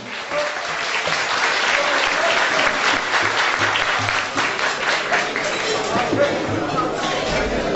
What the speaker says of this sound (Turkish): Değerli dernek başkanı Sevil Hanım'a bir alkış gelebilir mi?